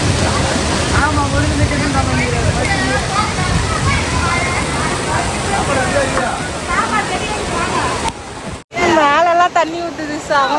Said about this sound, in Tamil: அவன் மழை பந்தலை தாண்டி மேலே தண்ணி ஊற்றுது.